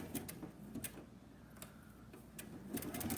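A sewing machine stitches a narrow zigzag along fabric binding, giving short bursts of rapid mechanical clatter that start and stop, close by with no talking.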